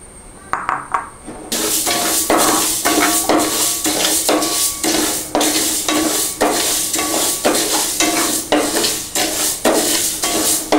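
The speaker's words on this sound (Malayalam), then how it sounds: "ആദ്യം തന്നെ ചെറുപയർ പരിപ്പ് ഒന്ന് വറുത്തെടുക്കും." Split moong dal dry-roasts in a pan for payasam, with a steady, close scraping and rattling as a spoon stirs the lentils in quick repeated strokes.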